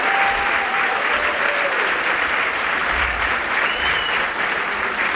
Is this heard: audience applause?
yes